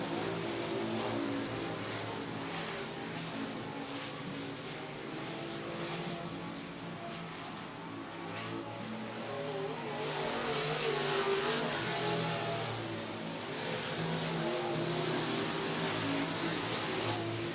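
Limited late model race cars lapping South Texas Speedway during the main event, making a continuous dense engine roar that rises and falls as the cars pass. The sound is heard from a distance, with no voices.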